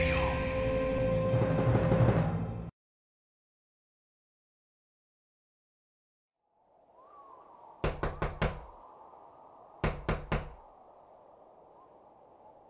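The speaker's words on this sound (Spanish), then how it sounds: "La puerta de la casa de don Fulgencio Tadeo Medina, un ingeniero de gran renombre en la ciudad, resonó" Knocking on the front door of a house, two separate bursts of three quick raps each, close and distinct, following a stretch of music and silence with a low background hum.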